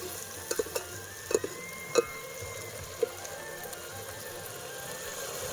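Chopped onion sizzles steadily in hot oil in a pan for a Kathiyawadi stuffed brinjal curry, with a few sharp clinks of a spoon scraping and stirring against the pan.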